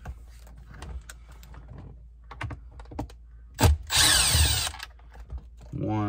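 A screw being removed from the console trim of a 2015–2019 Duramax pickup truck: a short, loud burst of a power driver whirring near the end, preceded by lighter handling clicks and rustles close by.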